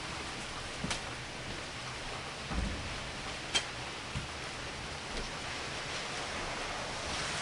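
Steady rain falls outside a bookshop with the door closed. It makes a soft, even hiss, muffled and fairly faint, with a few faint knocks and bumps now and then and no talking.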